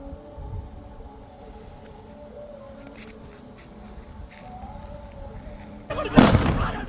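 A powerful ola palm-leaf firecracker set off for Vishu bursts once near the end with a single sharp, very loud bang after a few seconds of quiet outdoor background hum.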